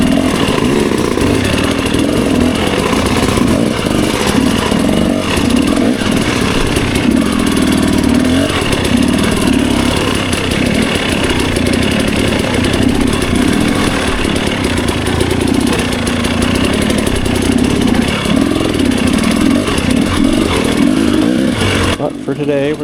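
A dirt bike engine revs and snarls continuously while riding over rocks, loud and close throughout with rising and falling throttle, a rider's voice occasionally heard over it.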